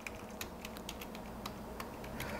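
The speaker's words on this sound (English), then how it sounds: "So down in the little search box, I'm just going to type in" Rapid typing on a computer keyboard, a steady run of light close key clicks with no voices.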